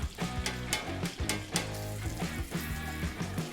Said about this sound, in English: You can see it kind of sizzling up on top.